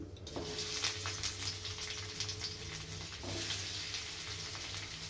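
Chopped onion dropped into a little hot oil with five-spice, giving a sudden sizzle that settles into a steady frying hiss, with a second burst of sizzling partway through and no talking.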